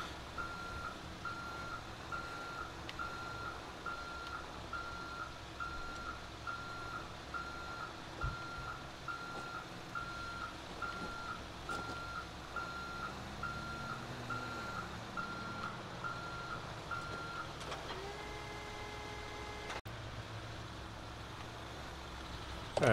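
A tow truck reverses in GTA 5, its beeper giving a steady run of evenly spaced, fairly faint beeps over a low engine drone and traffic noise, with a brief horn-like tone near the end.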